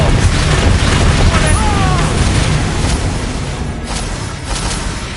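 An Expelliarmus spell cast in the Hogwarts Legacy video game: a heavy, sustained magical boom and crackling rush fill the scene loudly while a voice speaks over it.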